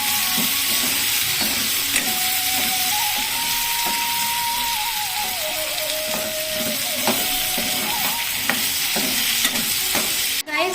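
Potatoes frying among browned onions in a pan, a loud continuous sizzle broken by repeated scraping stirs of a utensil, with a faint tonal hum running through the middle and no talk.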